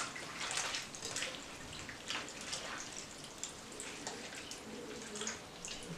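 Squeezed lemon halves are washed under water while making lemonade, with soft, fairly quiet splashing and trickling throughout and no talking.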